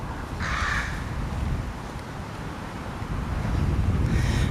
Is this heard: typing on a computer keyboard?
no